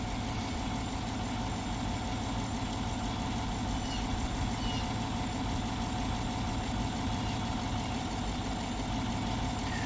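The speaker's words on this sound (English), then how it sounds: "So I'm just going to let my vehicle run for a little bit, let it charge the battery up." A truck engine idles steadily to recharge its battery, a constant close rumble with no change in pace and no voices.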